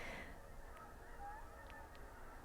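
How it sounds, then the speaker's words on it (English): Wild geese honk as a flock flies overhead outdoors, a few brief distant calls rising over steady background noise. "There's just a lot of geese flying."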